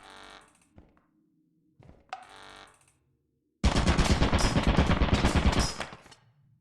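Short bursts of turret gunfire ring out in a video game mansion level: two brief sputters, then a loud sustained rattling volley that cuts off after a few seconds.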